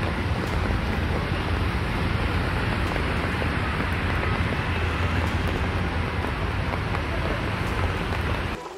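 Heavy afternoon rain pouring down in Bengaluru, a dense, steady hiss of drops hitting surfaces, loud and unbroken throughout.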